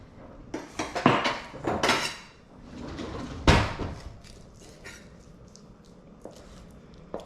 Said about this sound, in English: I'm going to cut up the lobster tails into bite-sized pieces